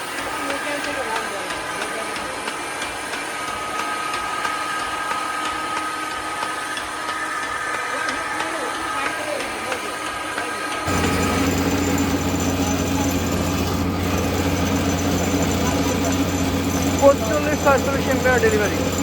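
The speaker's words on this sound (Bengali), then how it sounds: "দেখতে পাচ্ছেন আমাদের ফ্রি মোটর মাত্র 12 এম্পিয়ার কারেন্ট খাচ্ছে" An old ship motor reused as a single-phase rice mill motor runs freely at about 12 amps and 250 volts, a steady close mechanical hum and hiss that grows louder partway through, with someone talking over it.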